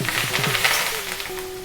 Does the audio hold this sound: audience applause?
no